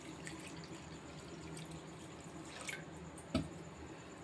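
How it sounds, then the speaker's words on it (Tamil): Water poured into freshly ground pearl millet to dissolve it, a soft steady trickle and drip with one brief louder splash near the end. "இப்போ தண்ணியை ஊற்றி"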